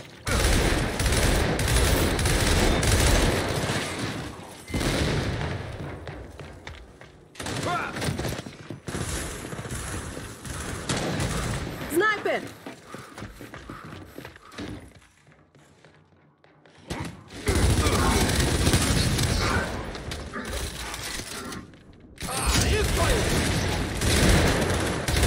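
Bursts of rapid gunfire from the video game Gears 5 multiplayer crackle and thud in dense volleys, separated by short lulls, with voices talking over parts of it.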